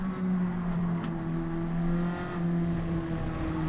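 Race cars in Gran Turismo 7 drone at speed, a steady, loud engine tone that holds and shifts slightly as the cars close in from behind.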